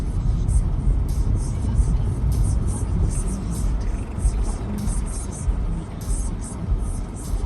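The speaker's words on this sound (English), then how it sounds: "There's a fucking car right there." A gray car passes close by with a loud, steady road rumble and engine noise lasting throughout.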